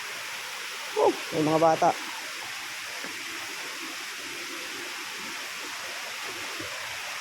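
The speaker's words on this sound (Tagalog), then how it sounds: "Yan yung ilog." A river rushes steadily with a broad, hissing wash, continuous and moderately close, while a few words are spoken briefly near the start.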